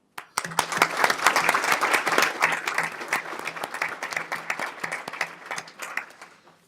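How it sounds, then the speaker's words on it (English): A conference audience gives a round of applause for the speakers at the close of a discussion session: dense, steady clapping from many hands that swells quickly, holds for several seconds, then thins out and fades. "I think we can have at least one round of applause for all these speakers"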